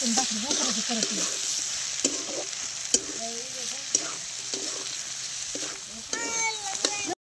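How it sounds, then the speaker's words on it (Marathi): A pan of cooked-down tomato sizzles while chili powder is stirred in, with repeated scraping strokes of a spoon over a steady frying hiss, close and moderately loud. "आता त्याच्यामध्ये काळा तिखट टाकून घेते, हलवून घेते व्यवस्थित."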